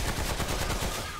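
Gunfire in the video game Remnant: From The Ashes, a rapid burst of loud repeated shots filling the whole moment, with no voice over it.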